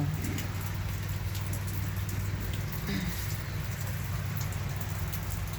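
Rain falls steadily and evenly outdoors, a soft continuous patter with faint birdsong far off.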